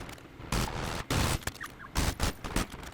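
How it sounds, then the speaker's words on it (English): Gunfire in a Black Ops 6 prop hunt match comes as loud, close bursts of rapid shots broken by brief gaps, with the firing repeating several times in a few seconds. "I'm basically just shooting everything"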